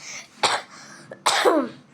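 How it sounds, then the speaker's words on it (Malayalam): Two quick, harsh coughs from one person sound close and loud, separated by a short pause with a faint catch of breath between them. "ചുമയാണ്"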